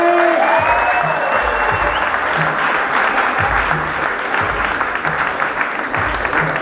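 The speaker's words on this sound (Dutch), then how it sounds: "Geef zo een warm applaus, Valérie!" Steady applause from an open mic audience, clapping continuously throughout at an even, fairly loud level.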